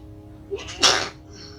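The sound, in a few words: sneeze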